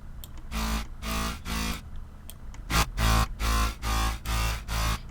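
Harsh, buzzing riddim synth notes made in FL Studio 12 pulse in a steady repeating rhythm, gritty and distorted, each burst cutting off sharply before the next.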